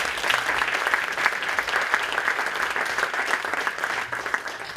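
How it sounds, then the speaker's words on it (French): Warm, continuous applause from an audience welcoming a speaker before a lecture on cryptocurrencies, even and sustained from start to finish. "Je vous propose de l'applaudir."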